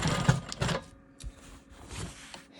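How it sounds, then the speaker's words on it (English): A sewing machine quilts smoky swirl patterns into an elongated rectangle of a rolling stone quilt block, starting with a couple of louder stitching bursts before settling into a softer, steady whir. "I'm going to come in here and quilt my smoky swirls in this elongated rectangle"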